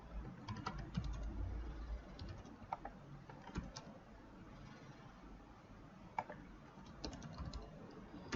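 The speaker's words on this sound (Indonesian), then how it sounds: "Caranya kita ketik di keyboard loft" Keys clatter on a computer keyboard in scattered bursts of quick, light clicks, some strokes sharper and louder than others, over a soft room hum with no talking.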